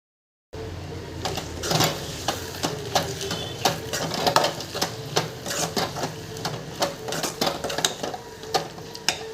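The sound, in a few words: stirring food in a pan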